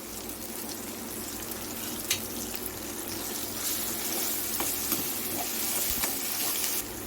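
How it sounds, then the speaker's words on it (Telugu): Chopped tomatoes sizzling in hot oil in a pan for a homestyle cabbage curry, a steady close frying hiss with occasional pops and crackles. "ఇప్పుడు మనం టమాటా వేద్దామండి"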